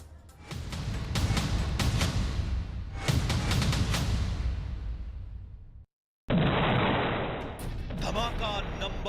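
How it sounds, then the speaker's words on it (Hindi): Israeli military explosions in southern Lebanon boom in successive heavy blasts with long rumbling decays, followed after a brief silence by another loud burst, with a voice talking over them. "दक्षिण लेबनान में इजराइल के धमाके वाले ऑपरेशन का जो वीडियो सामने आया"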